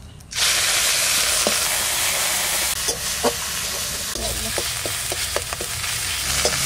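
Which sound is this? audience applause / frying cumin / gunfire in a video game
frying cumin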